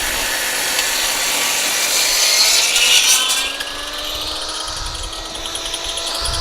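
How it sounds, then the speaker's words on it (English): A saw mills slab wood into lumber, giving a loud, steady, close cutting whine with a rough grinding edge. The pitch eases and drops partway through, with no voices. "Milling this one again, it's got enough meat in it."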